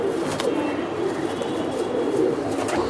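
A pankhi fantail pigeon coos in a low, continuous throaty murmur at a farm selling pigeons, steady and fairly close, with faint background noise.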